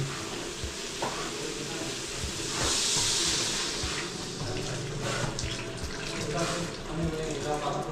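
Mineral water pours steadily into a pot for shrimp sinigang, a continuous hissing splash with a louder surge partway through, under a person talking.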